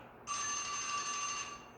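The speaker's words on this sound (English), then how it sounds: "There's my timer." A timer alarm rings as one continuous bright electronic trill, starting abruptly and lasting over a second before stopping, fairly faint in a quiet room.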